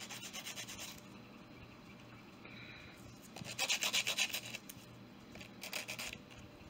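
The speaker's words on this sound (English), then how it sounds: "Now I like to go over it with a sanding stick or an emery board or some sandpaper just to true it up" A sanding stick or emery board rubs across the cut edge of a die-cast Hot Wheels Ford Mustang, a close, quiet rasping in short scraping bursts, with the strokes clustered into a few denser passes.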